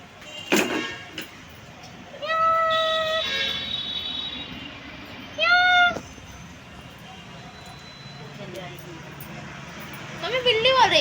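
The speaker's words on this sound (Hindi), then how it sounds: "मम्मी बिल्ली बोल रही थी ना अभी शायद।" A cat meowing at home, several short, clear meows spaced apart and fairly close, with people talking and household sounds around them.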